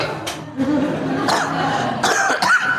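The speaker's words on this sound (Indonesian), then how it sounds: "batuk." Several coughs and throat-clearing sounds, close and fairly loud, scattered through a short stretch with a faint voice in the background.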